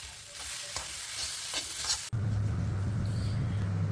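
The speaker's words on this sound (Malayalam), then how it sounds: "പിന്നെ നമ്മൾ മാഷ് ചെയ്ത് വെച്ച പൊട്ടറ്റോയും അതിലേക്ക് ഇട്ടിട്ട് കുറച്ച് കറിവേപ്പിലയും കൂടി ഇട്ടിട്ട് നന്നായിട്ടൊന്ന് കൂട്ടി യോജിപ്പിക്കുക" Mashed potato with curry leaves being stirred in a hot pan for Mumbai-style vada pav, a dense sizzle with scraping spoon strokes, then an abrupt shift to a steadier hiss over a low hum, close and without speech.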